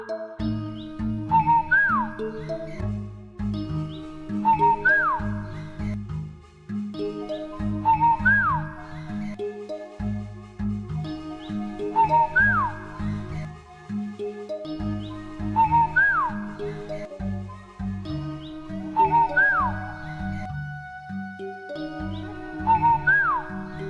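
A bright, whistled nightingale song, likely imitated, repeats the same rising chirping phrase about six times at a steady pace, clear and prominent over a soft musical backing.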